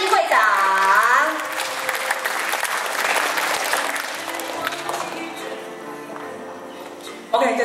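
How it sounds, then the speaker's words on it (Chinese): Applause from an audience at an elementary school graduation ceremony in Taichung fills the room, strongest at the start under a voice over a loudspeaker, then continues as a sustained clapping roar before tapering off. "掌声欢迎嘉怡会长"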